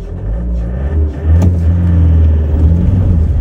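A car's engine labours and revs on a steep mountain road between Manali and Spiti, making a loud, low, continuous rumble that rises in strain partway through and carries no speech.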